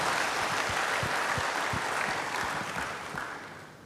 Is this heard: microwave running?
no